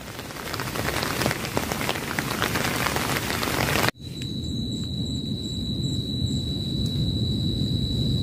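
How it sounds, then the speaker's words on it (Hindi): Heavy rain pours steadily on a campsite, a dense continuous hiss that cuts briefly midway and then resumes just as strong. "बारिश अभी भी चालू है"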